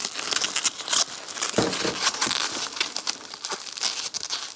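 Bubble wrap packaging being handled and crinkled up close, producing loud, irregular crackling and rustling bursts with occasional sharper pops.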